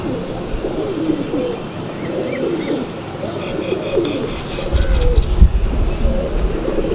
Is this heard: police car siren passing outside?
no